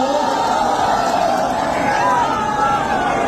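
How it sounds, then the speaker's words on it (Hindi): Loud, dense crowd noise at an outdoor election rally in Bihar, a sustained roar of cheering and clapping mixed with shouts and whoops, steady throughout with no pause. "बाबा के लिए जोरदार ताली हो जाए।"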